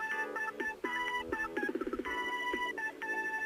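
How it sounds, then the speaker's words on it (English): A short burst of the Da Capo 2 game's electronic phone ringtone, a chirpy melody of beeping notes with a quick warbling trill in the middle, played alone and fairly clear. "Seriously, what's with the ringtone, man?"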